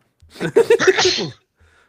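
A loud, close sneeze with a sharp build-up and forceful burst, followed by a brief quiet breath.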